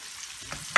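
Spices are stirred with fried onions in a pan, a short soft sizzle with a quick scrape of the spoon near the end, close and fairly quiet.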